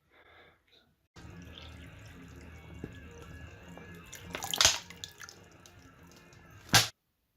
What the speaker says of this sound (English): I'm just cold crashing it in a sink of cold water.